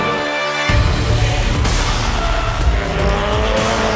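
Global Touring Cars race cars brake hard into a corner on a race circuit, a loud burst of engine roar with tire squeal and skidding that sustains for several seconds, no talk.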